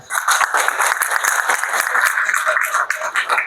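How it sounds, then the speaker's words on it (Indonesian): Clapping from an audience of students at a guest lecture at a polytechnic, loud and close, with individual claps distinct in a quick, uneven patter that continues throughout. "Tepuk tangan"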